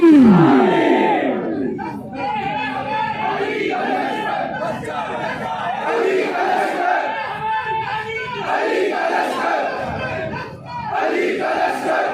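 A crowd at a religious gathering roars back slogans in unison after a preacher's call, loud massed voices rising together and then sustaining a rough, continuous chant that rolls on for several seconds.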